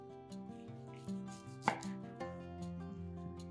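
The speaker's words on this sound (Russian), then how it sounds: "100 грамм колбасы тоже нарезаем кружочками" A knife slices sausage into rounds on a cutting board, quick repeated strikes with one sharper knock, close up with faint background music.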